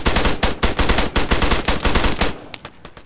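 A Katiba rifle fires in the ARMA video game, loud rapid bursts of close shots in a fast repeating rhythm, then tapering off into a few scattered distant cracks.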